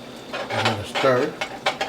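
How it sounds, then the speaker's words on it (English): Spoon stirring Salisbury steak gravy with a splash of heavy cream in a pan, giving a few close scraping, clinking strokes against the metal over a faint simmer. "I'm gonna stir."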